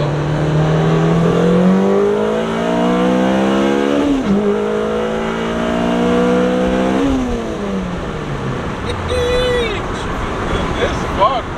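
A Honda Civic Si with a K24/K20 head-swapped engine revs hard, its pitch climbing, dropping and climbing again through gear changes into VTEC, heard from inside the car with road noise and brief voices near the end.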